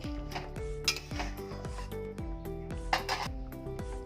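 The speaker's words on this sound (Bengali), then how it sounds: "নুনটা দিয়েছে একটু নেড়ে দেবো" Hilsa fish curry being stirred in a pan just after salt goes in: steady scraping and clinking of a utensil against the pan, with soft sizzling beneath, while music plays throughout.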